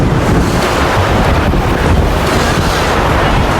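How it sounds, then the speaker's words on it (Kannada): Heavy rain and strong wind at Gopalaswamy Betta hill make a loud, steady roaring wash that buffets the microphone for the whole stretch. "ವಾವ್, ಮಳೆ ಜೋರಾಯಿತು"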